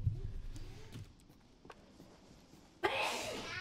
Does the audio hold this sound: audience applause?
no